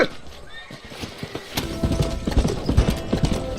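Horse hooves clop in a quick, loud rhythm in the Western video game Red Dead Redemption on PC, with a horse's neigh sounding over the steady hoofbeats.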